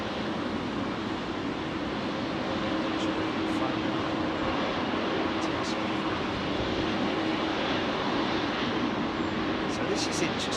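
A Boeing 777-200 at London Heathrow runway 27R gives off a continuous broad roar of jet engine noise at moderate distance, steady throughout, while people talk over it.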